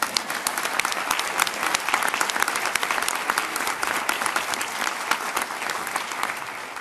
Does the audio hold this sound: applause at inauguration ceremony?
yes